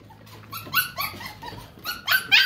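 Newborn puppies in a whelping box give several close, high, thin whimpers and squeaks in quick, uneven succession.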